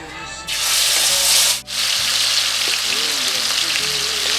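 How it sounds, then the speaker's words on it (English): Loud, steady sizzling of chicken frying in a pan over medium heat, starting abruptly and continuing close by with a brief dip partway. "Now we're going to start frying the chicken in medium heat."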